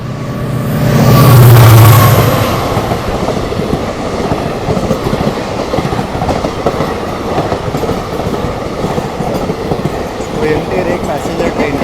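The Mysore-Jaipur Express runs on rails after leaving Hoshangabad, a loud continuous rumble of wheels and carriages with a low horn-like swell near the start, rattling steadily throughout.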